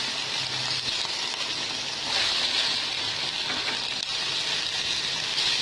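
Soy sauce hits stir-fried vegetables in a hot pan, producing a steady, loud, hissing sizzle with no voices.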